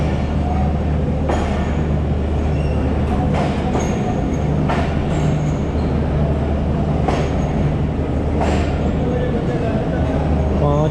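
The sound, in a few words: Pakistan Express train 45 departing Multan station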